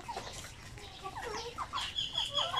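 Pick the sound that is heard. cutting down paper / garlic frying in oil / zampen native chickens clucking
zampen native chickens clucking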